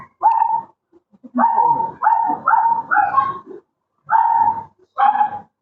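A dog barks repeatedly up close, loud yappy barks in short bursts with brief pauses between them.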